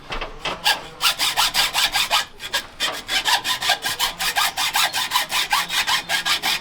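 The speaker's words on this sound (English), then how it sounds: "You want to make sure you give it a nice even sort of hacksaw all the way around it." A hacksaw cutting around a cable with quick, even back-and-forth strokes, close and loud, in a steady rhythm with only a couple of brief pauses.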